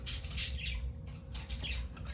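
Indoor pet birds chirp in two bursts of quick high twitters over a low household rumble, fairly faint and without talk.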